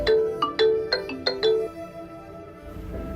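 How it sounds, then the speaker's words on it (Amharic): A mobile phone ringtone plays nearby, about six bright chime-like notes in a quick melodic sequence, clear and fairly loud, then fading out with no talking. "ስልክህም እየጠራ ነው።"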